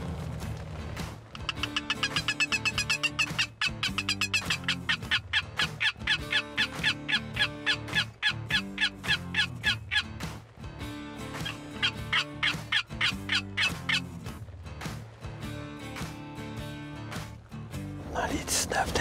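A flock of wild turkeys, about nineteen birds at the edge of a woods, calls from beyond a small ditch. Dense, rapid, overlapping gobbling and clucking continues throughout the clip.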